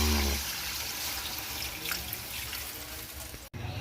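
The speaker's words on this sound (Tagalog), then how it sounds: "Guys, kumukulo na." Water boiling in a cooking pot for a miswa, patola and crab soup: a continuous soft bubbling and trickling texture at low volume with no talk, broken by a brief dropout near the end.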